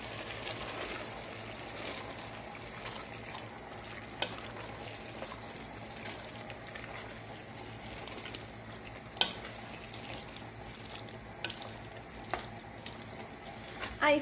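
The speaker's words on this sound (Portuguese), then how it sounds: "Vou estar mexendo." Stroganoff with boxed cream stirred in a pan, a soft continuous scraping and gentle bubbling throughout, with occasional spoon knocks against the pan.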